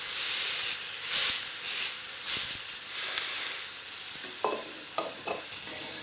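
Thai salmon burgers sizzle and fry in a pan on low heat, a steady close hiss with faint scraping and a few light taps, no one talking.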